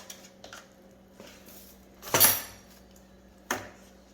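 Seasoned salmon fillet being turned over in a pan: a light metallic clink of utensil against the pan, a brief scrape and thump around the middle, then another sharp clatter, close and otherwise quiet with no talk.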